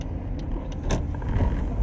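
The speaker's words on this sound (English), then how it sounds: "I hate this. I hate traffic." Steady low rumble of road traffic heard from inside a car, a continuous engine and tyre drone with faint thumps and a short swell of passing noise.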